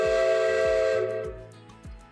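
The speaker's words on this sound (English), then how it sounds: "Thomas blew his whistle as loudly as he could" A steam locomotive whistle blows loud and sustained for about a second, then fades out over rhythmic chuffing of the engine, close and without speech.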